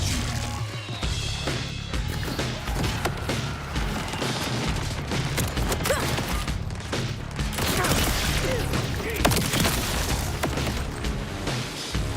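Gunfire in the video game Borderlands 4, continuous loud volleys of shots with crashing impacts and booms, with a voice talking over the chaotic shooting.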